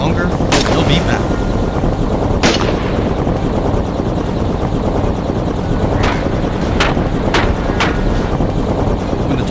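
A helicopter drones loudly and continuously during a wild boar hunt, with a few sharp gunshots cracking out near the start and again toward the end.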